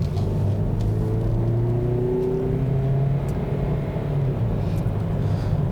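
A 2018 Kia Niro plug-in hybrid with dual-clutch gearbox and traction control off accelerates hard, its engine rising in a steady drone with rising whine, loud and close from inside the car.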